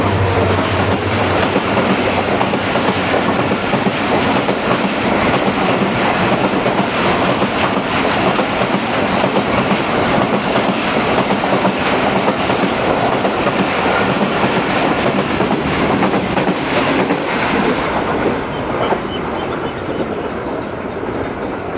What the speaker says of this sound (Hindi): ये गई 45 पाकिस्तान एक्सप्रेस, कराची से चली, मंजिल इसकी रावलपिंडी और 85 किलोमीटर्स की स्पीड से इसने जंगशाही स्टेशन को क्रॉस किया